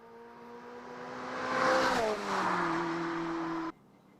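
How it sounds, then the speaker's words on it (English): An S1 Sport 190 car with a 180 bhp K-Series engine, Vulcan head and straight-cut gears drives past, its tonal engine note and gear whine swelling, dipping in pitch, then cutting off abruptly. "This is the K-Series, 180 brake horsepower, Vulcan head, straight cut gears, and what a beauty she is."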